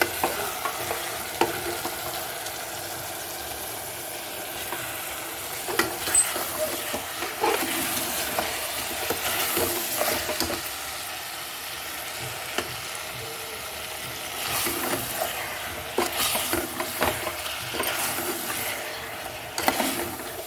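A mango and drumstick curry sizzles steadily in a pan while a spoon stirs it, with repeated scraping and rattling strokes over a continuous frying hiss.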